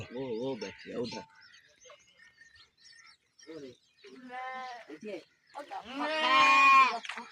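Sheep bleat in a rural setting, wavering calls rising clearly in the second half, the loudest one near the end, with a person's voice heard at the start and between the calls.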